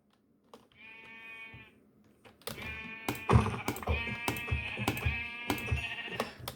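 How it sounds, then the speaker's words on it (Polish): Sheep bleat in Minecraft in a steady, drawn-out cry, then clicking and tapping sounds start and keep going under repeated bleats. "Owce!"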